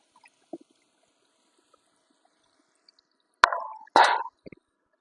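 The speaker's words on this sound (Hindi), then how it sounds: "थोड़ा सा पानी ऐड कर देंगे गाइस" Water is poured into a pan of cooking desi chicken, giving two short, sharp sizzling gushes after a quiet stretch with a few faint clicks.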